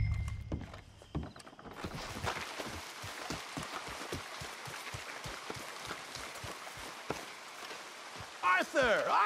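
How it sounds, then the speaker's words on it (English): Steady rain falls in Red Dead Redemption II, a dense patter that runs throughout alongside regular clip-clop hoof steps, with speech breaking in near the end. "Come on, it's raining."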